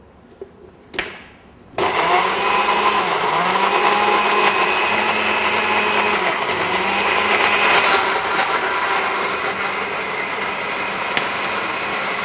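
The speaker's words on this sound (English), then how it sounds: "while the blender is working on my pesto" A blender whirs steadily as it purées pesto made with honey and fish sauce, starting after a short clatter and then running loud and unbroken, with a slight rise and fall in pitch.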